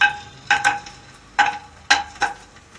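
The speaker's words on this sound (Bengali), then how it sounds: "এই গরম করা তেলের মধ্যে আমি বড়িগুলো প্রথমে ভেজে নেব।" Lentil badis dropped into hot mustard oil in a kadai, giving a few sharp sizzling bursts and clinks of a ladle against the pan, spaced about half a second to a second apart, close and without talk.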